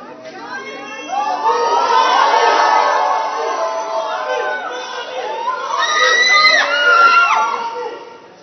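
A crowd of cricket fans cheers and shouts for Team India outside the ITC Maurya hotel, a steady loud roar of many voices with excited whoops and shrieks swelling toward the end.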